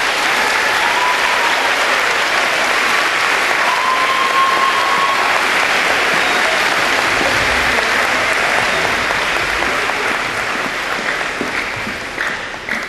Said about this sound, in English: Please give a round of applause for AJ Mayers